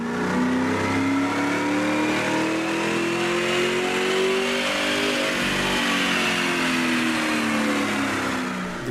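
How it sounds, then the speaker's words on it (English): A 2005–2009 Ford Mustang GT engine roars on a chassis dyno during a baseline run, revving steadily and loudly through the full pull with a sustained, rising mechanical drone and no talking. "We begin with the baseline dyno run."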